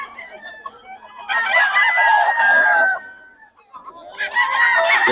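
A Sweater bloodline gamefowl rooster crows loudly and close, one long call followed by the start of another, with clucking and other fowl around it.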